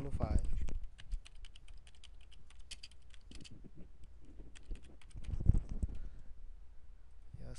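Typing on a computer keyboard while building a form, with clusters of quick clacking keystrokes near the mic and pauses between bursts, along with a person speaking at the start and around the middle.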